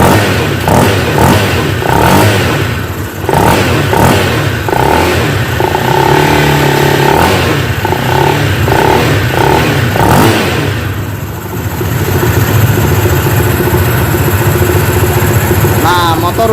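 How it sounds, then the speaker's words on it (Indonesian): A small Honda PCX 160 motor scooter engine, being serviced after flood damage, runs and revs in rough, rattling bursts, loud and close, with a steady mechanical drone underneath. "Kita gas dulu."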